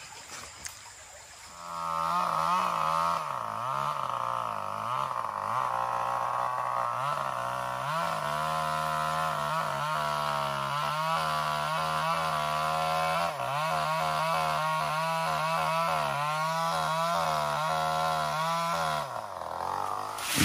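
A chainsaw engine revs loudly and continuously, its pitch rising and dipping as it bites into bamboo, running close by for about twenty seconds.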